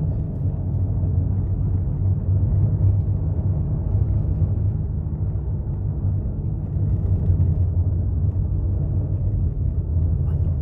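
A car cruises at 65 km/h on the E6 road in northern Norway near Honningsvåg and Hammerfest. From inside the cabin the engine and tyres make a steady, even low rumble, with no talking.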